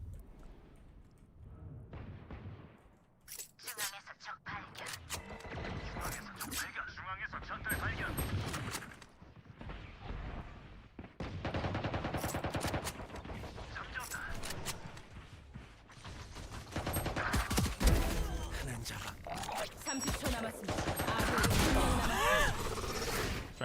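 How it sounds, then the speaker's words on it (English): Gunfire from a wingman in a video game, repeated shots popping through dense battle noise with other effects, mixed under an ongoing voice. "Trying to shoot the wingman through the smoke"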